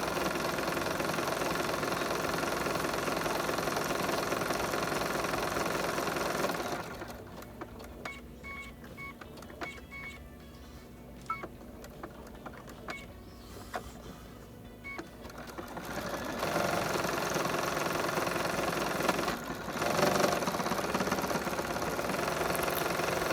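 A sewing machine runs a decorative stitch on an apron, a steady, fairly loud whirring with rhythmic rocking motion, pausing in the middle with light clicks before resuming its continuous drone.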